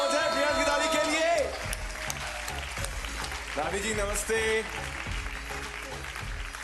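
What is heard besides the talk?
studio audience applause for Priyansh's grandmother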